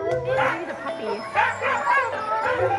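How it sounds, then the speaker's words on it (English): Many sled dogs bark and yip excitedly in a chorus before a dog sledding run near Quebec City, some near and some farther off, with a person talking over the noise. "if you can't tell by all the barking, we are here about to go dog sledding"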